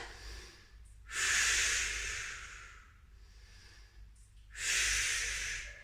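Two deep, hissing exhalations during a Pilates exercise, close and clear, each lasting over a second and separated by a quieter stretch of soft breathing.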